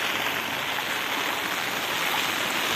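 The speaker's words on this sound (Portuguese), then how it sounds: "Olha o tanto de água correndo aí, ó." Rainwater from a storm rushes along dirt roads in the Bahia backcountry, a steady, full-bodied wash of running water that stays loud and continuous throughout, with no voices over it.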